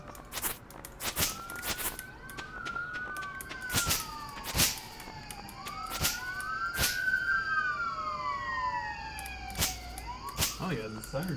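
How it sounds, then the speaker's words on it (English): Sirens passing outside a home, a wailing tone rising and falling over several seconds as the vehicles draw near and pass, heard from indoors with sharp clicks and soft room noise over it. "the sirens just passed outside"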